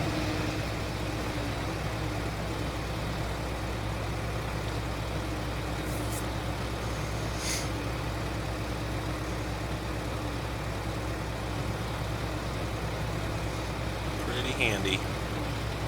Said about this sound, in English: hoping that these 2 tractors will not run into each other and be able to keep this thing moving.